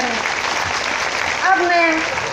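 Applause from a village gathering greeting a woman legislator, a steady broad wash of clapping throughout, with a voice talking over it near the end.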